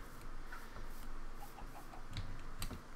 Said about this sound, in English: I hear chickens.